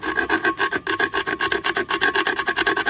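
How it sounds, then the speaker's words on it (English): A hardened steel file rasps burrs off the rim of a 2007 Toyota Yaris wheel in quick, rhythmic back-and-forth strokes, loud and close with no talking, about seven strokes per second. "I took a file, just a good hardened file"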